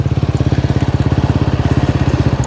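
A scooter engine idles close by with a fast, even putt-putt rhythm, steady and fairly loud throughout.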